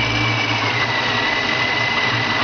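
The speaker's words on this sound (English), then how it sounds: "Take a listen to the sound of a centrifugal vortex supercharger." Centrifugal vortex supercharger spinning at high speed, a loud, steady, unbroken whine and rushing roar with no variation throughout.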